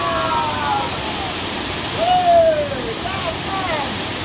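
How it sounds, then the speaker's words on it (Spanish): Small waterfall in the Indonesian jungle, a constant wash of falling water heard from a moderate distance, with faint bird or whistle-like tones drifting over it. "Llegamos aquí a la cascadita, que está ahí."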